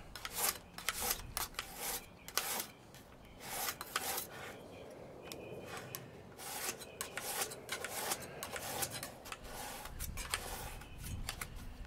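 A luthier's steel hand scraper has its edge filed to raise a burr, giving a steady run of close, harsh rasping strokes back and forth with no talking.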